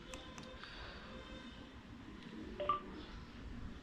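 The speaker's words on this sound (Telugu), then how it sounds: "ఈ మొబైల్ ఇది మొబైల్ బటన్ అంటారు దీన్ని ఒకసారి ప్రెస్ చేస్తే" A Sena SMH-10 Bluetooth motorcycle intercom gives a short, faint electronic confirmation tone after its mobile button is pressed, set against quiet low background hum.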